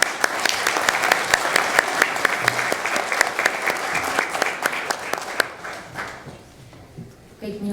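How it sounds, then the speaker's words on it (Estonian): Concert audience in a hall at an arts school spring concert giving steady, dense applause that runs several seconds before thinning out, with a faint voice near the end. "aplausid teeme siin"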